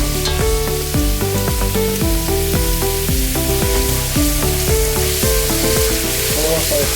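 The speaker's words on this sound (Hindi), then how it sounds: "सारे गरम मसाले जो हमने लिए थे सब, इसको थोड़ा सा हल्का सा ब्राउन कर लेंगे" Whole garam masala spices browning in hot oil with garlic paste for matar pulao, giving a steady, close sizzle and crackle with a regular rhythmic pulse running through it, no talking.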